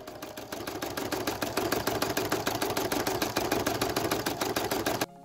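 A sewing machine embroiders a plushie's face, running at a steady fast stitching rhythm with even mechanical clatter, close and loud for about five seconds before stopping abruptly.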